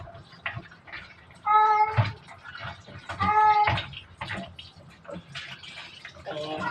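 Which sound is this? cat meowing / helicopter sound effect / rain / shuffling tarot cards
cat meowing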